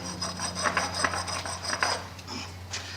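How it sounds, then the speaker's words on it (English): The steel face of a hammer is rubbed back and forth on concrete, producing a steady series of gritty, rasping scrape strokes, close and clear, over a low constant hum. "If it's not, quite simply rub it on the concrete"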